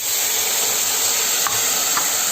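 Broad beans and their pods cook in a saucepan with a splash of added water, a steady loud hiss and sizzle running throughout, with a couple of faint stirring knocks near the end.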